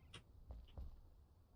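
A cat meows faintly in the video game Enshrouded, one short soft call followed by a couple of quiet thumps against a low background hum.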